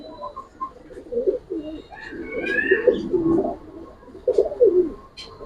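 Giribaz colouring pigeons coo in several soft, throaty bursts close by, with brief pauses between the calls and no talking.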